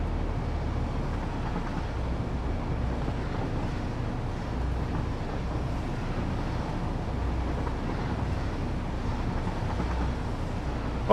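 A train in the factory-building video game Satisfactory, a continuous low rumble at steady volume lasting throughout, with no talking over it.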